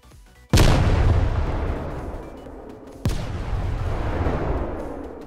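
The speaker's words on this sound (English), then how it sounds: "when I right click, it'll explode into a bunch of little ones" A Minecraft cluster bomb from the WeaponMechanics plugin goes off in two loud, close booms, each followed by a long rumbling, crackling decay as it bursts into smaller blasts.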